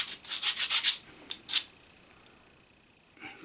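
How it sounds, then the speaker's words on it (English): Metal file gliding rather than biting across case-hardened steel, giving several short scraping strokes in quick succession, then a single stroke and a quiet pause before a faint final rasp, close up with no talk. "Same file. It's not gouging, it's just gliding across the surface."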